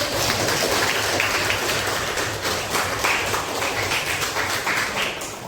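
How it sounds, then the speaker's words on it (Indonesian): A classroom of students applauding together, dense continuous clapping filling the room at fairly loud level for about five seconds without a break, no voices on top. "Ya, tepuk tangan."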